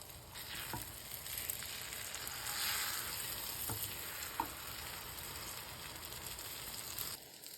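A Pakistani-style vegetable omelette sizzles steadily in a pan with a continuous close frying crackle, broken by a few light scraping taps of a utensil, and a brief tone sounds near the end.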